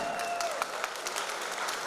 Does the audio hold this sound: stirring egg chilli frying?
no